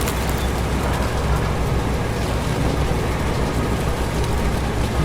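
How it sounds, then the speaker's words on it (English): Steady rain falls in the Roadcraft game demo, a dense, even wash of hiss that holds at one level throughout, with a low rumble of machinery beneath it and no talk. "Oh, and it's raining."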